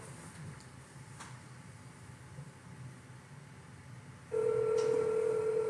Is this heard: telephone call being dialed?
yes